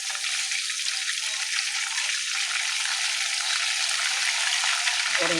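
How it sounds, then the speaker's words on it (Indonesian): Chicken satay frying in a pan, a steady loud hiss and crackle of hot oil that continues without a break, with no voices over it. "Goreng dulu satenya guys."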